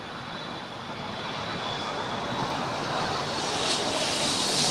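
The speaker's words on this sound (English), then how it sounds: "We also have Delta Airlines Flight 319 and the SkyTeam livery departing." A Delta Airlines jet airliner in SkyTeam livery departs LAX, a broad steady roar of engines that builds gradually as it climbs away, with no talk.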